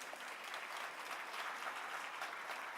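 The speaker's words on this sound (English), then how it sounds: "may I get a round of applause for our panelists?" An audience applauds panelists at a civil dialogue event, a continuous even clapping from a moderately sized crowd heard at some distance, with no voices rising above it.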